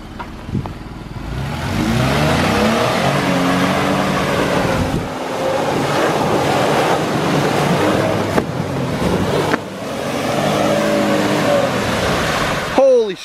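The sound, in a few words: truck accelerating through ruts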